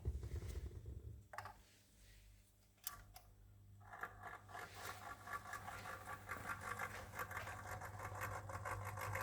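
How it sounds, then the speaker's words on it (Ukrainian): Magnetic stirrer spinning 100 ml of distilled water in a Dewar flask, a faint, steady mechanical whirring hum with light rattling that grows slightly busier after a few clicks. "І вмикаємо магнітну мішалку."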